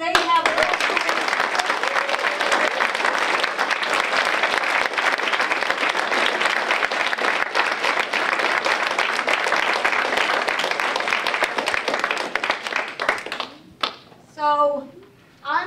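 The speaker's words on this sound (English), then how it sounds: "So please give a round of applause." Audience round of applause at a graduation ceremony, many hands clapping steadily for about thirteen seconds before the clapping thins and fades out, with a few scattered claps and a voice at the end.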